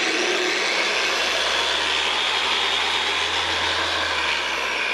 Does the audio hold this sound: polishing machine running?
yes